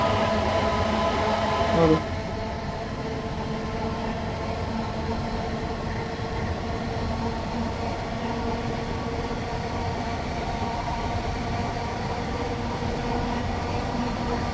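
Simulated train in Train Sim World 3, running empty on the Dartford to Gillingham line: a steady, continuous rumble of rolling wheels and motor drone throughout, with a brief louder tonal swell near the start.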